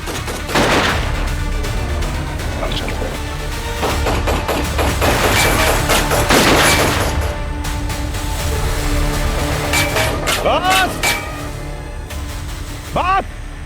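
Gunfire in a tense standoff scene, a rapid run of sharp cracking shots and bursts that stays loud and dense for much of the span, with brief voices and whooshing sounds toward the end.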